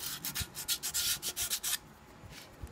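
A part on a Honda Click 125 scooter is scraped by hand in about a dozen quick, even strokes, close and fairly loud, before the scraping stops and only quiet background remains.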